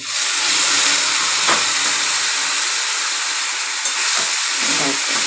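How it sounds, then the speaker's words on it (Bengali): Hot water hits spices frying in a pan for a koi fish and yam curry, the cumin, salt, turmeric and green chili bursting into a loud, steady hiss and sizzle that runs throughout. "এখানে গরম জল করে রেখেছি সেই জলটা দেব"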